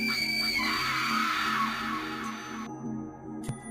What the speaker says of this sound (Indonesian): lalu jeritan panjang melengking.